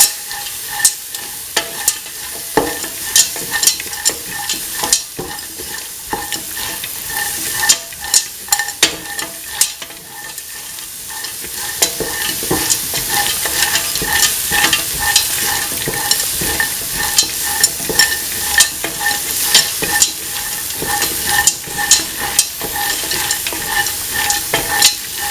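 A spoon stirs green peas into a kidney bean and coconut milk mixture in a pan. The scraping is steady and continuous over a bright, constant sizzle, close and fairly loud.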